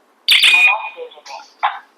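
PGST home alarm system being armed in away mode, giving a short burst of electronic tones and prompts, loud and close in a quiet room.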